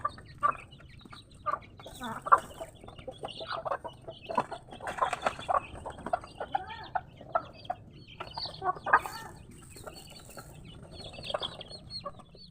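Chickens cluck softly and repeatedly at close range, short irregular calls scattered over a quiet background.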